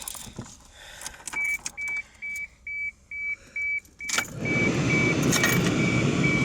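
A 1986 Toyota Supra with a 3-liter straight-six and five-speed manual is started close up: a series of evenly spaced chime beeps, then the engine catches and settles into a steady, full idle.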